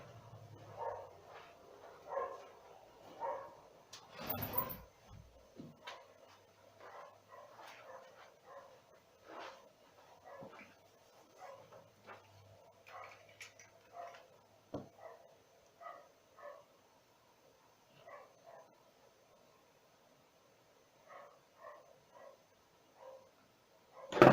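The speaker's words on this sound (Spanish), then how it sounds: "Pinche perro, cállate." A dog barks again and again in short, uneven bursts, fairly close and loud against a quiet background, with a few softer yips mixed in.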